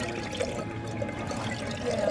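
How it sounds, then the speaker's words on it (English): Re-rendered lard is poured back into jars on a farm, giving a soft, steady liquid pouring and trickling sound, fairly quiet and continuous throughout. "We're taking our lard that has been rendered and then re-rendered and just pouring it back into jars here"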